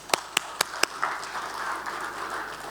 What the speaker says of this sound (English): please applaud for him, guys